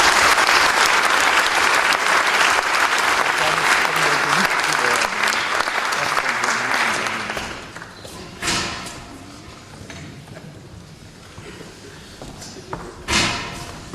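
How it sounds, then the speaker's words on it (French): Audience applause at an academic election proclamation ceremony, a dense loud clapping that fills the first half and then thins out into scattered claps and a few thumps. "Je crois qu'on peut les applaudir."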